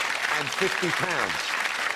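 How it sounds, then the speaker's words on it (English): A UK game show studio audience gives a sustained round of applause while a host talks over it, the clapping forming a steady wash behind his voice. "Once again, give them a round of applause"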